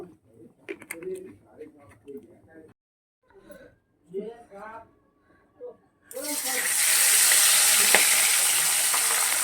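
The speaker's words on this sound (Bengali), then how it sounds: "কড়া বসিয়ে দিয়েছি দেখো বন্ধুরা আমি তেল দিয়ে দিচ্ছি মাছগুলোকে ভেজে নেব" Pabda fish go into hot oil in a wok, and a loud, steady sizzle suddenly erupts and carries on to the end after a stretch of talking.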